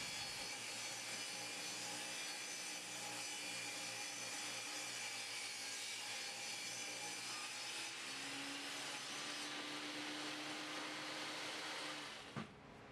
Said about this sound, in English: We're going to start on the table saw by ripping a piece of plywood down to the correct width.